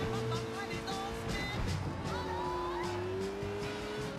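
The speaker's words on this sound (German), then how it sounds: "Das Auto fährt sich geil." A car in Sleeping Dogs drives hard with its engine droning and tires squealing in long skids, all fairly faint under game music.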